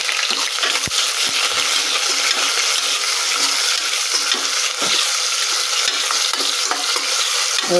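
Loud, steady sizzling of food frying in hot oil in a pressure cooker, continuous and close, with a few scraping stirs and clinks; no voices.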